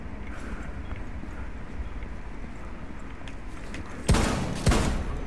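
In Rainbow Six Siege, a low, steady game ambience holds for about four seconds. Then two sharp, loud gunshots crack out about half a second apart, each leaving a brief decaying tail.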